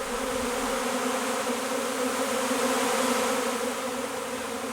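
A departing honeybee swarm fills the air with a dense, steady buzz from many bees at once, loud and close, with no voices.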